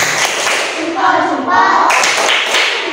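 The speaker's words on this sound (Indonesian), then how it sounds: "Beri tepuk salut untuk kelompok 3 ya anak ya." Classroom of children doing a rhythmic group clap, a dense burst of claps, thumps and taps close by, mixed with children's voices and an adult speaking over it.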